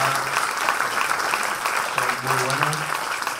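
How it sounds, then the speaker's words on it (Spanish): Audience applause for guests at the close of a panel discussion held by Argentina's science ministry, steady clapping filling the room throughout with a few brief voices underneath. "le voy a pedir un aplauso para nuestros invitados"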